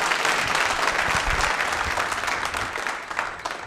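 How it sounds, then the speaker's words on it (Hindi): Audience applause for a contestant at a nursing college quiz show, a sustained round of many hands clapping that gradually fades toward the end. "तालियां बजाइए इनके लिए"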